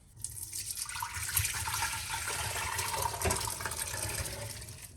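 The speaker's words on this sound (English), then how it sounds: "let's transfer our soup from slow cooker into the storage pot" Moroccan harira soup is poured from a slow cooker into a storage pot, giving a continuous soft liquid splashing and gurgling pour, close and moderately quiet.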